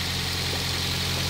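A Toyota Vios engine idles steadily after an overhaul and cleaning, a constant low hum with a faint mechanical hiss throughout, with no talking.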